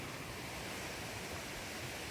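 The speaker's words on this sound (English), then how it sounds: "And you can see the falls in the distance." A woodland waterfall in the game Borderlands 2 gives a broad, steady rushing roar, even and continuous with no breaks or voices.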